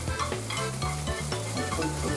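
Egg mixture for an omelette sizzles and is stirred in a hot frying pan, a continuous dense crackle with quick scraping strokes repeating about every quarter second.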